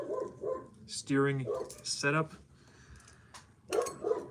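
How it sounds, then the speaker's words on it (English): A dog outside barks in a few sharp bursts with whimpery yips in between, near and fairly loud, while someone talks during a Losi TLR RC car kit build. "That dog is out there barking."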